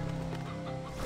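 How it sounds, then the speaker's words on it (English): A painted hen, a colorful chicken in the video game Slime Rancher 2, gives a short burst of clucking over a steady game music background. "painted hens are colorful chickens"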